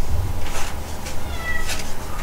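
A cat meows repeatedly from behind a closed door, the muffled cries rising and falling in a steady series at moderate volume with no talk over them.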